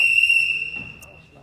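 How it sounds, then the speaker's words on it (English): A referee's whistle ends a timeout at an SPBL basketball championship game, a steady high tone held for most of a second before cutting off, over faint gym noise. "There's the whistle, end of the timeout,"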